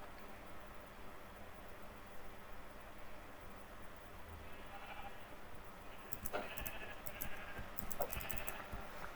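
Faint steady hiss at first, then a few sheep bleats in Minecraft Java Edition toward the end, one after another, at moderate distance.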